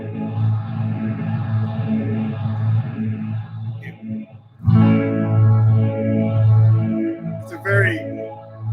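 Electric guitar played through Logic amp and effects plugins with a volume pedal, so sustained notes swell in softly under heavy reverb and echo, held and ringing, with a brief dip midway.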